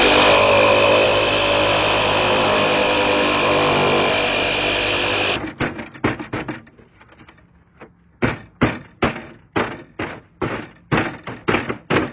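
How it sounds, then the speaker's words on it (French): A jigsaw cuts along a marked line in a camper roof panel to open a hole for a Dometic ventilated skylight. It starts with a loud, steady buzzing cut, then gives way to a series of sharp, rhythmic thumps and knocks. "je coupe à la scie sauteuse sur le trait"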